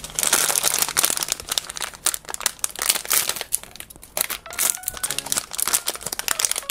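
A plastic blind box bag for a Finding Unicorn AAMY Picnic With Butterfly figure being torn open and handled, producing dense, continuous close crinkling and rustling throughout.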